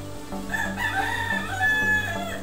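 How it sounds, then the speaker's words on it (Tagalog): A rooster crows close by and loudly, one drawn-out call with clucking fowl mixed in, heard alone without any talk. "Ayun, may manok."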